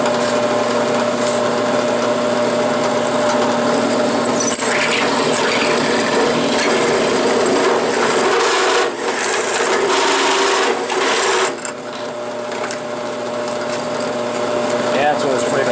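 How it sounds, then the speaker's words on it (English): A dull drill bit bores a round hole in wood, a steady grinding whir that runs loud and close for most of the stretch, easing briefly near the end. "This bit's not very sharp either, so part of the challenge, but it's making a round enough hole"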